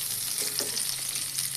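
Spices and ginger frying in a pan for moong pulao, a continuous bright sizzle with a few soft scraping stirs rising briefly in the middle, no talking.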